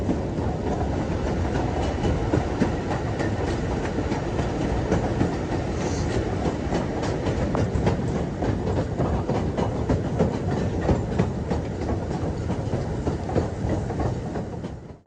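A Ffestiniog Railway gravity train rolling downhill, heard from on board as a loud continuous rumble with steady clickety-clack of wheels over rail joints for the whole stretch.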